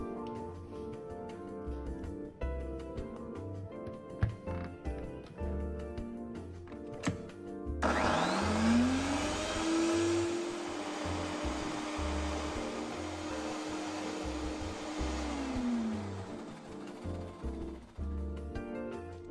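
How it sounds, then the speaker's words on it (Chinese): An electric blender whirs through cassava purée, cut pandan leaves and about 100 ml of coconut milk, a loud steady motor drone that rises suddenly after a stretch of background music and runs on with a slowly shifting pitch. "準備好木薯，去皮後磨成泥，斑蘭葉4-5片，剪成小段，全部倒入攪拌器"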